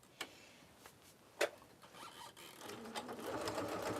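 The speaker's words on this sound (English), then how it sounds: "I'm going to sew that" Sparse clicks and taps lead into a sewing machine starting to stitch a tote bag seam, its quiet rising hum building toward the end.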